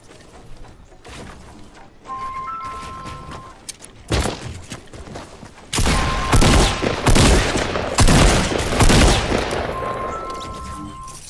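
Gunshots in the Fortnite video game, coming in bursts of rapid loud shots with quieter gaps between them and a few single cracks, mixed with faint game tones and brief voices.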